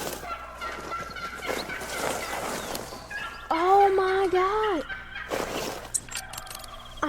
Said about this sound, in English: I have 2 turkeys on me.